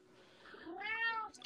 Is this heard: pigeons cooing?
no